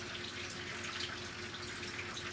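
Water runs in a steady, hissing stream, soft and fairly distant, with no voices.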